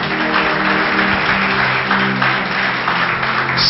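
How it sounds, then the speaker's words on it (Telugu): A church audience claps loudly and steadily together, a dense continuous wash of applause that fills the space from start to finish with a faint voice beneath. "గట్టిగా చప్పట్లు కొడదాం"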